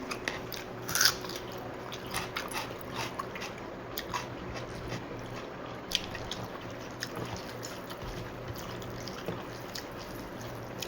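Someone eats rice with fish curry cooked with pumpkin in the afternoon, with close, soft wet chewing and small irregular clicks and smacks, fairly quiet and without talk.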